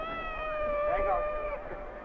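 A cat gives a drawn-out, wavering meow in an old western film scene, fairly loud and close, with voices and background chatter around it.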